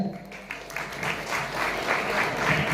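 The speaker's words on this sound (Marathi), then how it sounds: "त्यासाठी वरुणकर सरांसाठी सर्वांनी एका टाळ्या वाजवायच्या." An audience claps for a teacher at a twelfth-standard farewell function at a junior college, dense applause building from scattered claps to a sustained roar over a few seconds.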